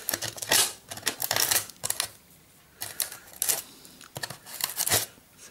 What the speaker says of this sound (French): redécouper un petit peu les morceaux de polystyrène brûlé là qui dépassent